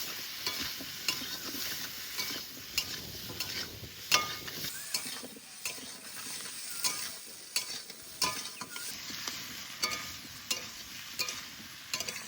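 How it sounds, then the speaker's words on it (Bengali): Pumpkin pieces fry in a pan with a continuous close sizzle, while a spatula stirs and scrapes in uneven repeated strokes, and no voices are heard. "এবার কুমড়ো ভালো করে ভেজে নেব"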